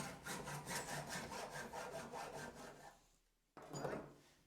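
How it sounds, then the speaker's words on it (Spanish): A hand saw cuts through old lead plumbing pipe in fast, steady back-and-forth rasping strokes, loud and close, then stops briefly before one more scraping stroke. "vamos a cortar aquí. Cuidado con la sierra."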